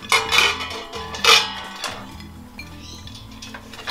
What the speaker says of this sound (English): So grab your rice, and we'll just put it into a nice big pot here.